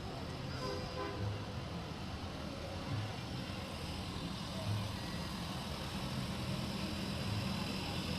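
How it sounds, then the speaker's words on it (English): A Ford 7000 tricycle tractor rolls through a Christmas parade, its engine a steady low rumble heard from a moderate distance under a constant outdoor wash of crowd noise, with no sharp changes throughout. "a Ford 7000. That's a good looking Ford tractor."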